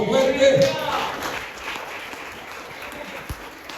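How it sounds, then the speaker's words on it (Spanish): A church congregation applauds loudly at a worship service, the clapping strongest at first and then thinning to a steadier patter, with a voice speaking over it early on. "ese aplauso fuerte"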